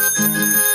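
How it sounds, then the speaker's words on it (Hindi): A bicycle bell rings in a bright, sustained metallic chime with steady ringing overtones, close and clear with no voices. "टन टन टन टन घंटी बजाते, लाला जी आए साइकिल चलाते"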